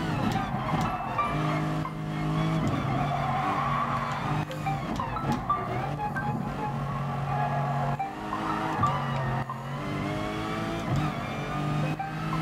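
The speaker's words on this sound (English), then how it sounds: "I love the little flames out of the exhaust on the AMG when the wastegate pops." A Mercedes-AMG race car in Gran Turismo Sport roars with loud, continuous engine and exhaust noise, revs rising and falling, with sharp pops from the wastegate breaking through here and there.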